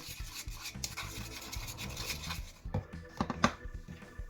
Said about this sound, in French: je viens déjà mélanger mes paillettes avec la colle